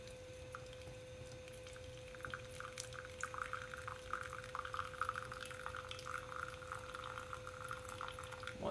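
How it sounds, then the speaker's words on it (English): Russian coffee poured slowly, a faint, quiet trickle of liquid over a low steady hum, with soft clinks and splashes and no talking. "Pour real slow."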